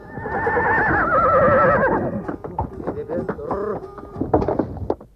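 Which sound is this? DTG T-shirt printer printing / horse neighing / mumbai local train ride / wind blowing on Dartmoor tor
horse neighing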